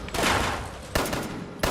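Gunshots fire for headshots in Fallout 76: a loud blast at the start with a long tail, then two more sharp, evenly spaced shots.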